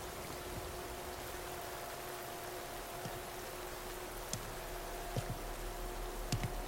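Steady rain falls in the Metal Gear Solid Delta: Snake Eater game, a constant soft wash of drizzle with a few sharper drips and patters near the end; no one speaks.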